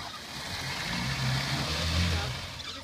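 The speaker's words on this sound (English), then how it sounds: "It sounds like a car." A car engine revs repeatedly while the vehicle is stuck without traction, a loud, close, droning roar that swells and holds for a few seconds.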